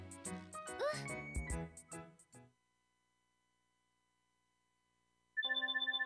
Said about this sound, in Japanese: 電話か。